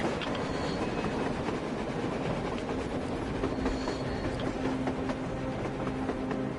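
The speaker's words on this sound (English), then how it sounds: "A train! A damn train on the surface!" A video-game train rumbles steadily past on the surface, with continuous rolling noise, faint clicking of wheels on track, and a thin squeal in the middle.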